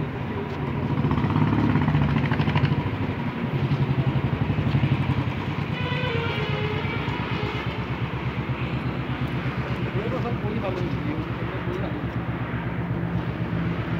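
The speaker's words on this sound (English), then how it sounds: "This is the Continental GT 650 twin from RE," A Royal Enfield Continental GT 650 twin idles nearby, a steady, even low engine thrum running the whole time, slightly fuller at first, with no voices.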